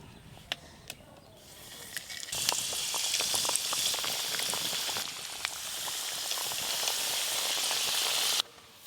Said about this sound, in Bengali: এবার সপ্তপুরি পিঠাগুলো ভেজে নেব।